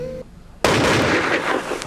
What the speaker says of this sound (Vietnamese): Tiếng súng, tiếng súng.